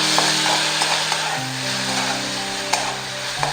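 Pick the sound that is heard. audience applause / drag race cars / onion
onion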